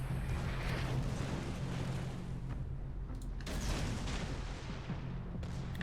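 Rapid secondary gun batteries on a warship in World of Warships fire continuously in a dense, booming barrage of overlapping shots, loud and close throughout with no pauses.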